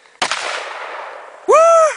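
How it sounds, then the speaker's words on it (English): A gunshot fired at gas beside a burning road flare cracks sharply and rolls into a long, roaring explosion that dies away, followed by a loud whooping voice. "go way the hell back there and shoot it and see if it blows up"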